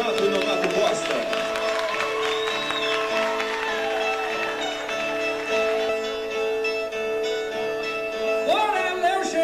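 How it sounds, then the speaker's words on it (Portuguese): An audience at a live show in São Paulo applauds two performers; steady broadband clapping and crowd noise continue throughout, mixed with sustained music or voices and some tonal sounds. "Vamos aplaudir Raimundo Donato e Donato Costa."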